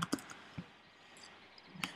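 Quiet, sparse clicks of fingers typing on a computer keyboard, a few isolated keystrokes spaced irregularly, close but faint against a low background hiss, with no talking.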